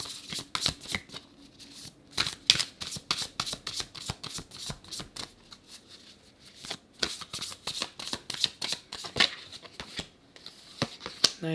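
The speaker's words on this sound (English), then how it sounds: "Let's pull 3 cards." Tarot cards are shuffled by hand in quick, crisp riffling bursts, a rapid run of papery slaps and flicks with brief pauses between handfuls, close and clear with no talk.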